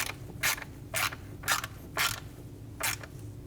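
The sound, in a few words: tightening a screw with a ratchet on a Volkswagen Passat intake manifold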